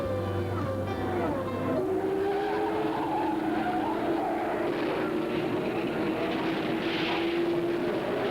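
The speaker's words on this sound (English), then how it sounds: "the roar of 33 engines capable of propelling each speed creation at well over 200 miles an hour" Race car engines roar at the 1982 Indianapolis 500, a continuous loud drone with pitch sweeping up and down as cars pass, steady and unbroken throughout.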